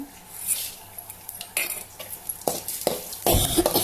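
Chana dal, coriander seeds, cumin, mustard and fenugreek dry roasting in a pan for sambar: rattling, clinking metal spoon strokes and scraping against the pan, irregular and close, growing busier toward the end.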